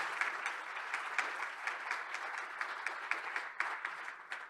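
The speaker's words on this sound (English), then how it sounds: "So give our Lord Mayor a round of applause again." Moderately distant applause from an audience for the Lord Mayor, a steady patter of many hands with a few sharper claps standing out, holding level before tapering slightly at the close.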